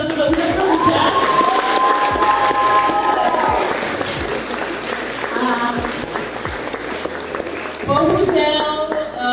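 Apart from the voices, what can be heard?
audience applause at CreepyCon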